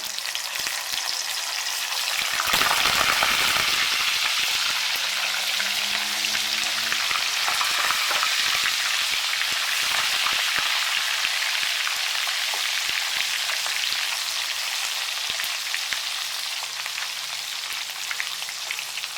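Salted fish frying in hot oil, a steady, dense, crackling sizzle that runs continuously throughout, with a brief stir or louder spatter near the start and no talking.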